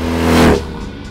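A race car sweeps past in a quick loud whoosh of engine noise that swells and fades within about a second.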